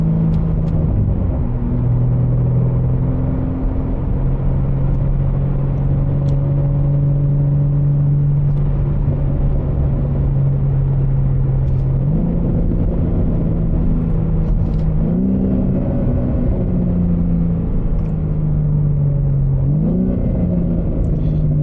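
A BMW G80 with a Valvetronic exhaust drones and rumbles steadily up close, with engine pitch rising and falling through several shifts and occasional faint crackles.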